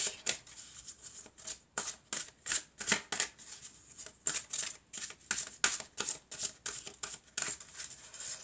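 A deck of oracle cards being shuffled by hand, a rapid series of crisp riffling bursts and soft slaps separated by short pauses, close and clear with no talking.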